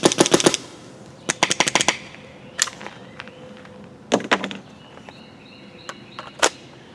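A Planet Eclipse Emek MG100 magfed paintball marker fires outdoors in quick bursts of sharp snapping shots, several rapid volleys and a few single shots separated by short quiet pauses.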